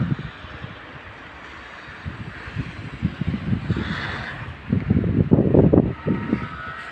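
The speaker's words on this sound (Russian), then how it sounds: "Ветер сильный, снег усиливается." Strong wind blows outdoors in snowy winter weather in Orenburg, a low rushing roar with gusts that swell and buffet the microphone, growing rougher toward the end, no voices.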